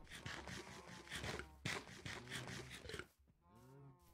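Minecraft cows mooing in a game barn: several low, drawn-out moos in close succession, loud and near, with overlapping calls and a deeper moo rising at the end.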